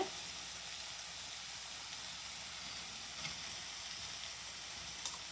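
Moong dal frying in a hot pan with turmeric powder being added, a steady soft sizzle and hiss running throughout with a couple of faint clinks near the end.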